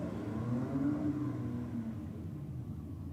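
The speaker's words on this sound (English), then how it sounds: "To me, sounded like a turbo or like a blow-off valve of some description." A Commodore race car fitted with forced induction, its engine note a steady, fairly loud drone with a brief rising whine and hiss, fitting a turbo or blow-off valve, over about three seconds with no talk.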